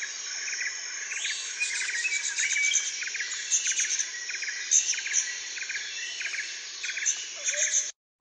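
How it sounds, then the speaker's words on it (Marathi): Birds chirp and tweet continuously in the Karnala bird sanctuary forest, a dense, bright chorus of overlapping calls mixed with insect buzzing, steady and close, with no voices. "पक्ष्यांच्या चिवचिवाटात चालायला मजा येईल."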